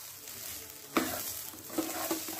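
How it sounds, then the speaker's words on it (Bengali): Rice for Hyderabadi chicken biryani is stir-fried in a pan, a continuous close sizzle broken by a few distinct scrapes and knocks of the spoon against the pan. "চালটা ভাজা কিন্তু হয়ে গেছে"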